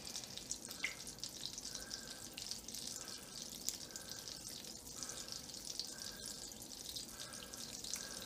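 An egg frying in a super hot mini cast iron skillet gives a steady, close crackling sizzle with broadband hiss throughout and faint intermittent tones.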